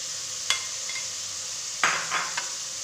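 Garlic and ginger frying in a pan with chili, a soft steady sizzle broken by a few sharp spoon scrapes and clinks against the pan, close and fairly quiet with no talking.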